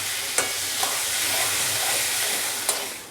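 Potatoes stirred into fried onions and spices in a pan for a fish chop filling, giving a steady close sizzle with a few sharp scraping clicks of the spoon, no talking.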